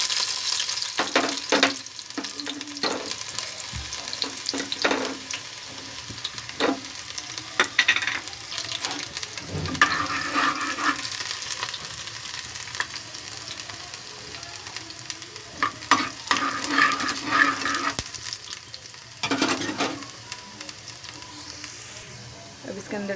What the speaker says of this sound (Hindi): तेल गर्म हो चुका है, इसके अंदर प्याज डालेंगे।